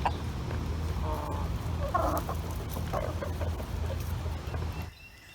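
Backyard chickens clucking during dirt baths, several soft irregular clucks and murmurs over a steady low background hum, fairly close, ending abruptly in near silence.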